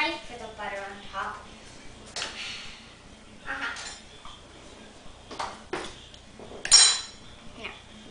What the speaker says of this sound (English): Now I need a knife for the butter on top.